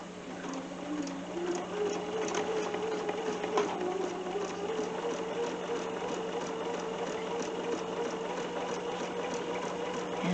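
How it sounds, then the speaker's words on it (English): Bernina sewing machine stitching steadily along a drawn line on a quilt block, a continuous close motor whir with fine rapid needle clatter, no talking. "I'm just sewing right on the line that we drew"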